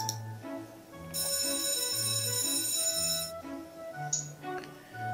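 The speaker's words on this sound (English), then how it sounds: "The bell rings and we quickly gather up our books." An electronic school bell chimes in a visual novel video game, a sequence of stepped melodic tones with a bright, sustained ringing passage in the middle, heard alone and fairly clear.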